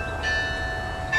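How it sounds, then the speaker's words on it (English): Carillon bells sound from a gigantic bell tower, a sustained ringing tone with a fresh strike near the start and another near the end, heard from a distance and fairly soft. "So Mom's going to play the carillon."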